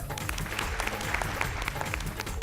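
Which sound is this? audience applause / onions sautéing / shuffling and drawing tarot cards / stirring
audience applause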